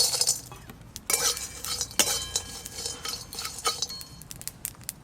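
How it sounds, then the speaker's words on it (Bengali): Whole biryani spices dry-roasted in a dry kadai, with close metallic clinks and scraping as a utensil stirs and knocks against the pan in irregular strokes, quiet and without talk. "এখানে সব গোটা মশলা নিয়েছি, শুকনো কড়াতে একটু ভালো করে ভেজে গুঁড়ো করে নেব।"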